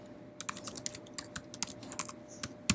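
Brisk typing of text on a computer keyboard, a steady patter of crisp, close key clicks with a heavier final keystroke, alone with no voices.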